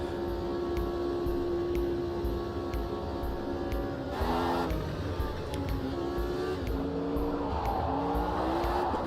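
Lotus 79 race car engine at Watkins Glen in a racing video game, a loud steady high-revving drone with sharp gear-shift breaks, the pitch climbing through each gear and briefly dropping at each shift.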